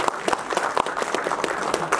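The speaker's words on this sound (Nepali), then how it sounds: "जोरदार ताली" An audience claps loudly for an actor at a Nepali film event, a brief dense burst of applause filling the whole two seconds.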